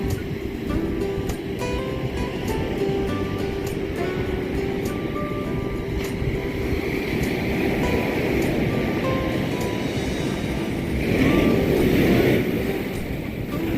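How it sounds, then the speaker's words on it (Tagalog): Strong ocean surf on a coast in Samar, a steady loud roaring wash of waves with a swell building near the end, continuous and close, without talk. "Lakas ng alon."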